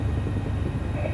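A rescue helicopter flies over mountain glacier terrain during a rescue of a seriously injured skier, its dense low rotor and engine rumble steady, loud and continuous throughout.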